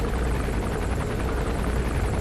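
Helicopter in the stealth game Metal Gear Solid V: The Phantom Pain, its rotor thrumming loud and steady throughout with a dense, continuous whir and no speech over it.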